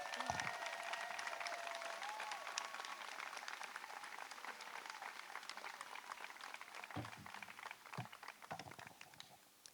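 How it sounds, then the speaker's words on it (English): A graduation audience applauds at Nerinx Hall's 2020 ceremony, soft and fairly distant, a continuous patter of clapping with a few louder thumps near the end. "if you'd like to applaud"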